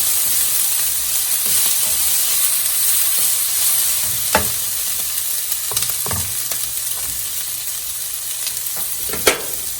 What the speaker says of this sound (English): Onions and green peppers are still sautéing, almost done.